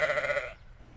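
A single short, nasal sheep-like "baa" lasting about half a second, probably a voice imitating a sheep, fades out into quiet.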